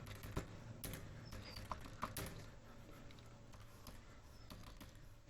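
Keys clatter on a computer keyboard as accounting entries are typed, scattered taps rising over a steady low background hum with no voice.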